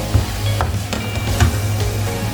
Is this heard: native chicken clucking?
no